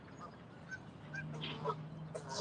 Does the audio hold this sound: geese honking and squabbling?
yes